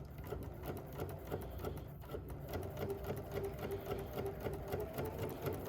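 A sewing machine runs along the edge of a fabric pattern piece for a quilt block, a soft, steady, rapid mechanical chatter of stitches with faint tapping, no voices over it.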